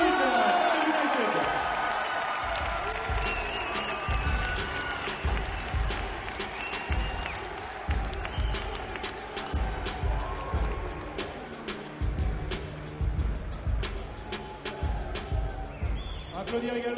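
After the judges' unanimous decision in a lightweight MMA team-league bout, an arena crowd applauds and cheers steadily for a long stretch, while an announcer's amplified voice speaks over the clapping.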